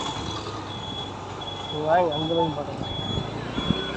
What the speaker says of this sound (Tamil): இதுதான் காரைக்கால் பஸ் ஸ்டாண்ட்